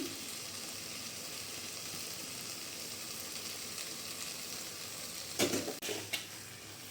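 Kohlrabi and cubed tomato sautéing in a pan, a steady soft sizzle running throughout with a few louder scraping stirs of a spoon near the end.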